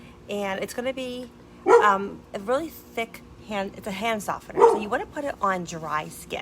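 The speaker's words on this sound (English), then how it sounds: "I'm sorry for the dog." A neighbor's dog barks repeatedly in the background, several sharp yaps scattered beneath someone talking steadily indoors.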